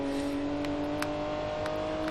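BMW M4 engine in a driving video game holding a steady, faint mid-rev drone with a constant tonal hum and a few soft clicks, no talk.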